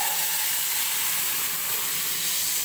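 Cooked, mashed taro leaves hit a hot garlic tempering and set off a loud, steady, close-up hiss and sizzle that lasts throughout, with no talking.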